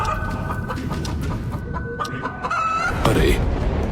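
Hen clucking and fowl calls close by in a Hindi cartoon, with a louder squawk near the end, over a steady background hiss.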